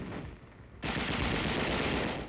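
Machine gun fire from 1945 wartime combat footage of troops in the Pacific, a dense continuous roar of automatic fire that starts quieter and jumps to a sustained loud burst partway through, with no voices.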